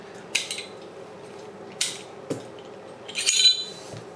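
A Glock 19 Gen 4 pistol being field-stripped, its slide and dual captive recoil spring handled, giving a few sharp metallic clicks and clinks spaced over several seconds, close by and otherwise quiet, with no talk.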